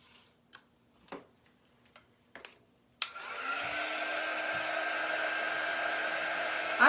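A handheld hair dryer switches on after a few light taps and clicks, then blows with a steady, loud, close whirring hiss while drying freshly chalk-painted craft tags, and no one speaks.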